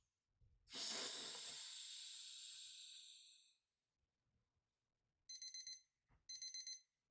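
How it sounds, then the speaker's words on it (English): A meditation timer alarm sounds in two short bursts of rapid high beeping after a long breathy exhale, set in a quiet room with no talking. "timer's up"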